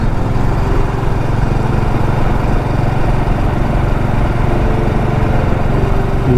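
A motorcycle engine drones steadily as a bike is ridden along a tree-canopied road in Kerala, a loud, close, continuous rumble with wind noise and no talking.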